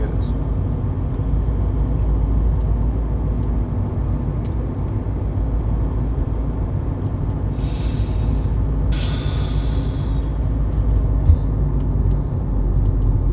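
A steady, low engine and road rumble fills a car's interior while it drives, continuous throughout, with a few brief breathy sounds and faint high clicks on top.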